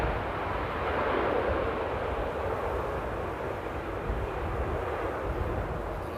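A Transavia airliner rolling out at Amsterdam Airport in windy weather gives a steady, broad engine roar with wind rumble, holding constant at moderate distance throughout.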